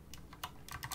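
Typing on a Massdrop x Zslane Mercury Rocketeer mechanical keyboard gives a handful of soft, quick key clacks in an uneven rhythm, faint and close with no talking.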